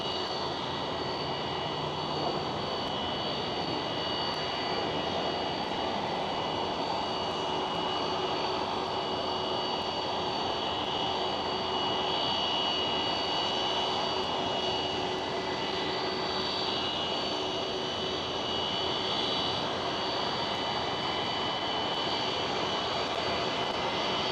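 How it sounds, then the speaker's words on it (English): A KLM Cityhopper Embraer E195-E2 jet takes off at Amsterdam Schiphol airport, its engines giving a steady, broad roar that holds loud and even for the whole stretch with no voices. "a bluey taking off KLM Cityhopper E195 E2"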